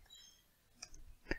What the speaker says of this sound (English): hit enter key on the keyboard